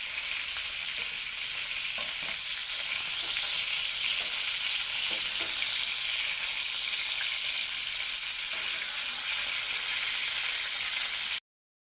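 Pointed gourds sizzle steadily in hot oil in a pan, a dense continuous frying hiss with faint stirring taps, loud and close throughout before cutting off abruptly at the end.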